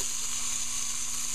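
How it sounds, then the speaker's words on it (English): Organic ground beef sizzles steadily in a hot pan, a continuous close hiss with faint crackle and no pauses. "Get that nice sizzle right there"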